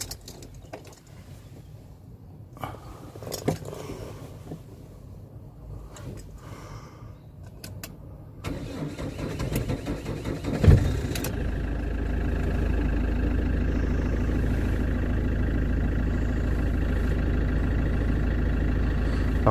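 A Fiat Ducato motorhome's diesel engine, just fitted with a new fuel filter, clicks and cranks through several seconds of fuel priming, then fires and settles into a loud, steady idle.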